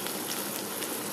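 Chopped onions fry in a hot pan with a steady, soft sizzle and crackle, a continuous moderately quiet hiss with no talking.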